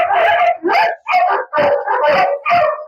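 A big dog, nervous in an unfamiliar villa, lets out a string of loud, close barks mixed with howling yelps, about six in quick uneven succession.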